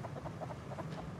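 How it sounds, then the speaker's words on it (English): Chickens in the survival game Rust cluck in a quick series of soft, close clucks over a brief moment, fairly quiet overall. "Dude, there's so many chickens outside."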